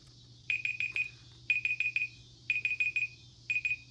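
A laptop timer alarm goes off in a quiet room, sounding four bursts of rapid high-pitched beeps, each burst about four beeps long, evenly spaced about a second apart, clear and close over a low steady hum.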